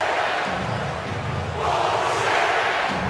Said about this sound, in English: NFL craziest crowd chants